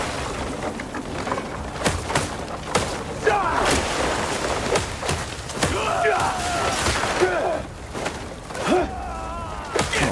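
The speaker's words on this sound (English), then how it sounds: "I can't believe they're using cannons to stop one person." Repeated cannon blasts in the action game Crimson Desert, firing at a lone player character as sharp booming hits spaced irregularly over a steady battle din, with voices and other game noise running underneath.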